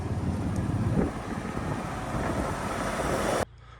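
A 1969 Dodge Dart Swinger with a 340 V8 and MSD ignition idles steadily through very quiet mufflers, a muffled broadband rumble under wind buffeting that cuts off abruptly near the end.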